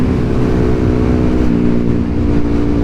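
Yamaha WR155 motorcycle on a night ride, accelerating at half throttle in sixth gear, a loud, steady engine drone with strong low harmonics, close up and without talk.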